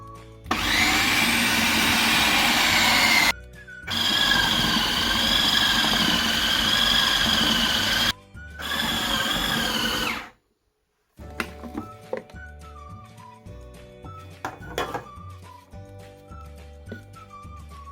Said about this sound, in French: Et je vais lancer le pétrissage.